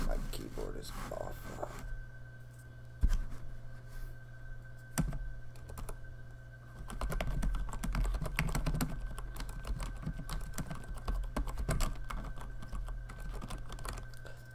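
Computer keyboard typing close by, bursts of rapid clicking with brief pauses, continuing steadily for several seconds over faint background sound.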